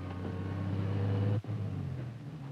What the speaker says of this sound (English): Yes, a car.